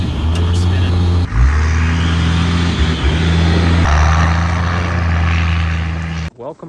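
A 12-valve Cummins diesel engine in a 1993 Dodge W350 truck revving hard, a loud, steady low rumble and roar with a brief dip partway through before the sound cuts out at the end.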